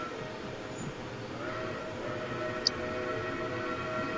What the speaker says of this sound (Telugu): ఇక్కడి నుంచి డైరెక్ట్ సింగిల్ ట్రైన్ పట్టుకుంటే రాజధాని బ్రూసెల్కి వెళ్ళిపోతాం.